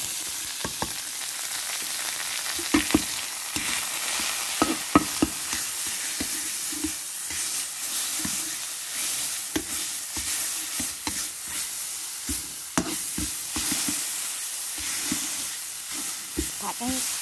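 Pounded herb paste stir-fried in about two tablespoons of oil in a pan, giving a loud, steady sizzle with frequent scraping stir strokes throughout.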